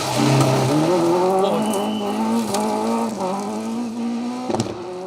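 Subaru Legacy rally car driving a slippery stage of the Malcolm Wilson Rally in the 2WD class, its engine note loud and sustained with rising revs, a brief sharp burst near the end.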